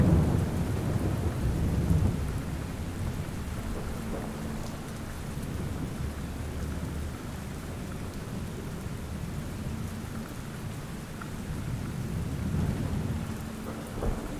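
Steady heavy rain pours down with deep rolling thunder rumbling through, strongest at the start and swelling again near the end, with no voices.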